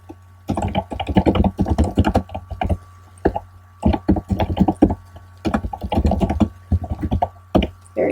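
Steady keyboard typing in quick bursts of clacking keystrokes with short pauses between runs, close and clear, with no voices.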